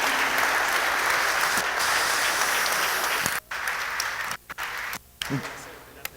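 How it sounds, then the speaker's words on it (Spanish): An audience applauds the economist Alfonso Capurro at a rice industry talk, dense steady clapping filling the room for several seconds before breaking off into brief gaps near the end. "Le pedimos un aplauso para el economista Alfonso Capurro"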